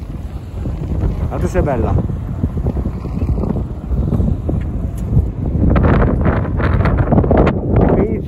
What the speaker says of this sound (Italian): qui c'è un vento che porta via